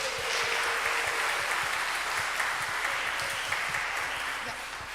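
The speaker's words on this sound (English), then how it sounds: "let's do one big round of applause for all the awards" A crowd at a kindergarten graduation applauds steadily for the awards, dense continuous clapping throughout with some voices mixed in.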